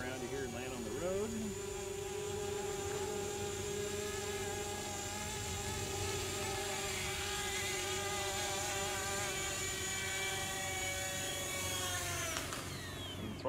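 An XK X450 VTOL radio-controlled aircraft flies close by and comes in to land, its motors giving a steady, high, buzzing whine with layered harmonic tones that hold for the whole stretch before shifting pitch near the end.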